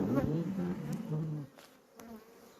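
Honey bees buzz around a hive as they are moved into a new hive with fresh bottom boards, the old ones starting to rot; the hum is loud at first with low handling noise, then drops to a fainter drone with a few clicks.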